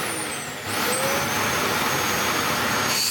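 Dyson DC05 Motorhead vacuum cleaner, running without its filter, switching up to a loud, steady whooshing roar after a brief quieter start, close by and with no talk.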